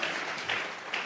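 A church congregation claps in applause during a sermon, a dense steady wash of hand claps that swells slightly in waves, heard from within the room.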